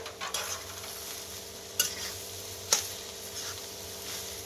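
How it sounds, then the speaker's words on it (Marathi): Onion and grated coconut roasting in a pan over low heat for a Malvani chicken curry, with a soft steady sizzle and a few sharp scrapes of a spoon stirring. "त्या कांद्याबरोबरच या भाजू, आधी कांदो भाजून घ्यायचो कारण खोबरा भाजाक लय वेळ लागत नाही।"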